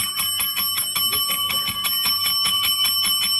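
A small hand bell rings in a rapid, steady run of bright dings to close bidding at a live auction, the strikes evenly spaced and close, with no talk over them.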